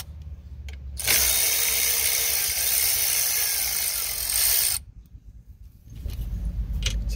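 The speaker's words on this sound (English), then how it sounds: "Using my 3/8 Milwaukee ratchet." A 3/8-inch Milwaukee cordless ratchet spins off bolts holding a large forklift alternator, a loud steady motorized whir lasting about four seconds, close up, followed by quieter shop clatter and handling noise.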